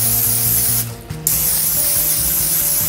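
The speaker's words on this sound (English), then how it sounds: "we're going to take this and we're going to spray generously" Cooking spray hisses steadily from an aerosol can onto an open waffle iron, a loud close continuous spray with one brief pause near the middle before resuming.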